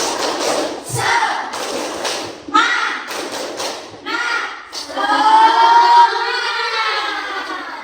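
A classroom of pupils performing a rhythmic spirit clap, with bursts of sharp claps and thumps set in a patterned beat alongside chanted children's voices, ending in a longer sustained group shout.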